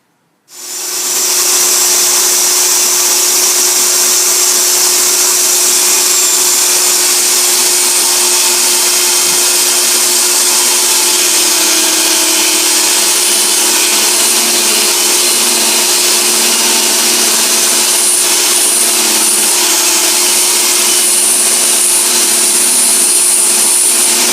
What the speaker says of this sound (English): Using the table saw, rip it down to size.